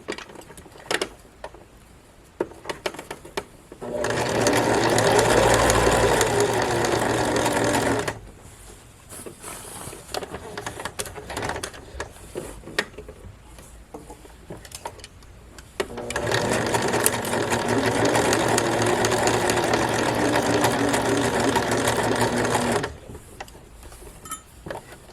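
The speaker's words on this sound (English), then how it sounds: "We'll begin with a back stitch. And then we'll go forward." A sewing machine stitches a modesty panel into the back of a formal dress, running in two long steady bursts of whirring mechanism separated by quiet pauses, close and loud.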